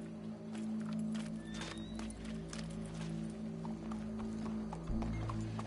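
Horse hooves clip-clop at a walking pace in a Red Dead Redemption game scene, a steady moderate rhythm over low ambient hum and soft background sound, with no talk.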